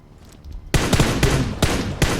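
Gunfire in the game PUBG: after a brief quiet lead-in, a loud sustained burst of automatic shots erupts, with several sharper cracks punctuating the dense, continuous firing.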